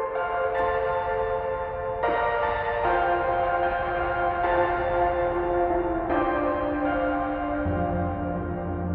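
A reverb-drenched bell synth patch from the UniLofi library for Unify plays sustained chiming tones, with new struck notes entering every couple of seconds and ringing over a long washy tail, no voices present.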